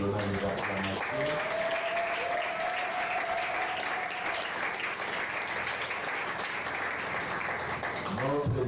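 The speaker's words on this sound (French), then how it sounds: "en donnant les acclamations." A church congregation claps steadily and loudly throughout, dense applause with a brief sustained tone in the middle, fading at the end.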